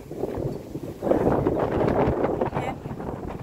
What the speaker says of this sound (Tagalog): Mahangin, parang uulan pa.